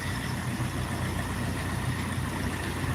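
A mini tractor's engine runs steadily at idle, a low, even rumble close by with a constant drone and no change in pitch or load.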